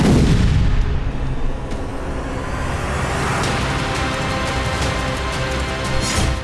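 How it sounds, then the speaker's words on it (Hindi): A loud blast opens, followed by a sustained roar of distant bomb explosions from a bombing attack in the Russia-Ukraine war, with a few sharper bangs breaking through. "बम हमले से एक साथ कई विस्फोट हुए और बड़ा इलाका आग और धुएं से घिर गया।"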